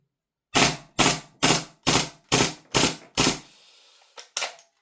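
A VORSK VMP1 gas airsoft pistol fires seven sharp, evenly spaced shots in quick succession, followed by a short hiss and two more quicker pops, all close and loud with no talking.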